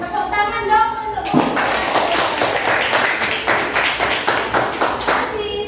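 Children in a primary school classroom burst into rhythmic clapping after a brief voice, a steady, close burst of hand claps lasting several seconds before tapering off.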